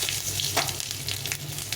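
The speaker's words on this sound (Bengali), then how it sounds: "তেলটা বেশ গরম হয়ে গেছে, এখন আমি এখানে ফোড়নে দেবো শুকনো লঙ্কা," Dried chilli, bay leaf and cumin seeds sizzle in very hot oil as a tempering for a vegetarian vegetable dish, a steady close-up crackling hiss with a brief louder spit partway through.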